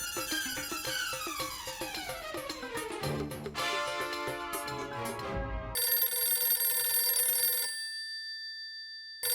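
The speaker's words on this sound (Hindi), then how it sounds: "अरे तेरा फोन बज रहा है, देख।" Mobile phone ringing indoors in a comedy scene, a busy musical ringtone with descending tones that gives way to a bright electronic ring pattern, then breaks off near the end.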